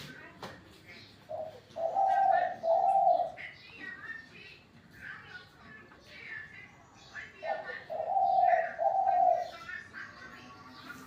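Double-voiced doves coo in repeated phrases, two clear bursts of cooing separated by a pause, close and fairly loud against a light background with a few faint chirps.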